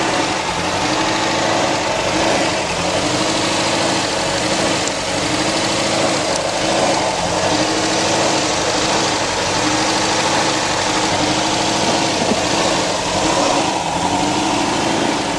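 A V8 Dodge Charger engine runs rough at idle with its throttle blade stuck open, a steady close mechanical drone with uneven pulsing and faint knocking throughout, no voices.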